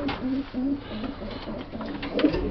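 A pigeon brooding on its eggs in a loft gives soft, repeated throaty coos close by, with quiet background noise between the calls.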